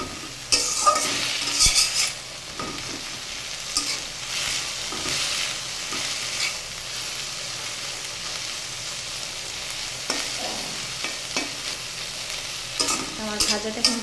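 Tender jute leaves (pat shak) fry in a pan with a continuous close sizzle, broken by scraping, stirring strokes and occasional light clinks of a utensil against the pan.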